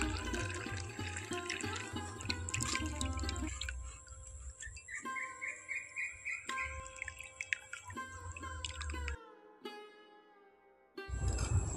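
Homemade rose water being strained, liquid pouring and trickling steadily before thinning into scattered drips and splashes, then a brief stop and a final pour, close and fairly quiet.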